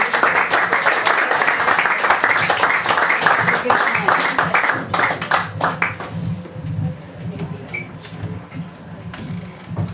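Audience applause for comedian Eve Pearce at her second stand-up set, a dense wash of clapping that runs strongly for about six seconds, then thins into scattered claps and crowd murmur.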